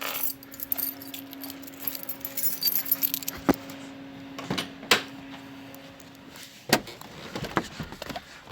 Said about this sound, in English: Let's grab the keys,